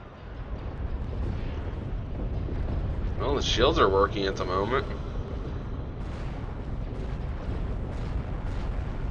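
Cannon fire and explosions thunder through a Star Wars video game battle, a dense rumbling barrage with a sharper burst of blasts midway, running under steady voices and game dialogue throughout.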